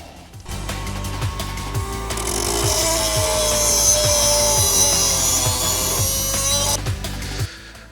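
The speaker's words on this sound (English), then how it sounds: "the only option is to grind it once again" Angle grinder cutting away a leftover piece of steel sway bar on a Škoda Superb MK2 front suspension, a loud sustained high whine with rhythmic pulsing as the disc bites, running steadily for several seconds before spinning down.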